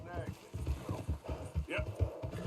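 Horse hooves clip-clop steadily in Red Dead Redemption 2, a rhythmic near trot with occasional game sounds, while a person talks over it.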